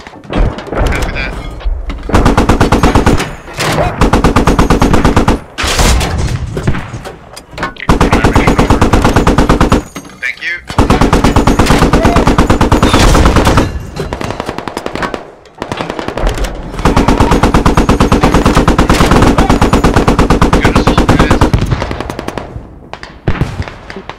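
An M1A2 Abrams tank fires in the video game Squad, heard as loud repeated booming blasts and rapid gunfire bursts that fill nearly the whole stretch, with brief gaps and radio talk mixed in.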